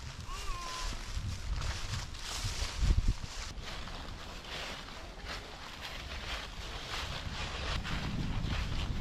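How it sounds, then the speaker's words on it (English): Strong, gusty wind roars steadily at a freezing winter campsite, a close, noisy rush buffeting the microphone with occasional bumps and swells, with no one talking. "Since it's so windy tonight"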